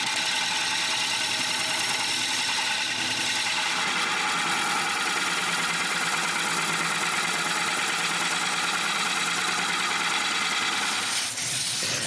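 A wood lathe spins a cylinder being turned for a nutcracker, giving a steady, continuous whirring hum with a rough cutting texture that stays close and even throughout.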